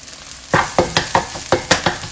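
White scallion pieces and pickled vegetable stir-frying over medium-high heat, with a soft sizzle under six quick, close spatula scrapes in a brisk, even rhythm.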